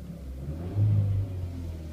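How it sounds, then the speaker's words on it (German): A 2014 Renault Clio GT gets a brief blip of throttle, its low engine hum swelling for a moment into a short rev before easing back toward idle, close and alone. "Ich gebe mal ein bisschen Gas."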